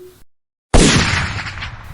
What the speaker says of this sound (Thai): เสียงปืนแผดลั่นสนั่นป่า